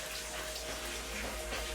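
Water trickles and drips into a decaying abandoned resort building, a faint, steady running splash with a low hum beneath, heard alone with no one speaking.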